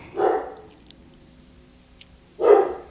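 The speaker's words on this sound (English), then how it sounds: "My dog is out there acting like a lunatic. I don't know if you can hear her." A pet dog barks outdoors, two separate loud barks about two seconds apart with quiet in between, heard from a little distance and with no one speaking.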